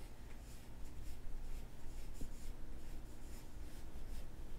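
Pencil shading on paper, a faint, steady scratchy rubbing of graphite strokes heard up close and alone.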